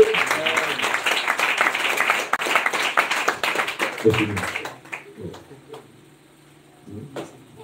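Church congregation applauding in a steady dense clatter of claps for about four seconds, then thinning to a few scattered claps among voices.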